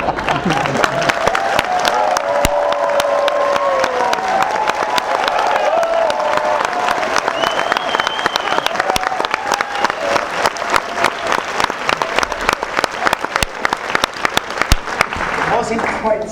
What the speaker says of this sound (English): start applauding again